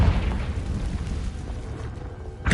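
Magical Confringo fire spell blasting in Hogwarts Legacy, a deep rumbling boom that rolls on for a couple of seconds, with a fresh burst at the very end.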